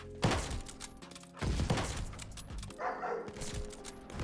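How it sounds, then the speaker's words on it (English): A dog in a Call of Duty Vanguard match barks and yelps repeatedly amid bursts of gunfire, with steady in-game action underneath and no talking. "my dog's just dying"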